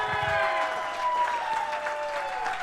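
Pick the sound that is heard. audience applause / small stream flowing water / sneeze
audience applause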